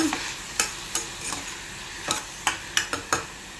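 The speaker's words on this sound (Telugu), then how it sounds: "సాల్ట్ వేసాం కదా, ఒకసారి బాగా కలుపుదాం" Tomatoes with salt stirred in a pan for a hotel-style egg curry, heard as a series of short, separate scraping strokes of a spoon against the pan over a faint background sizzle, with no talking.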